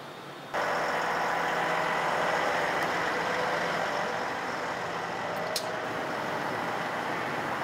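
A Rotochopper B-66 wood grinder's engine runs steadily after a sudden start, a loud, constant broadband roar with a low hum, close by and without speech.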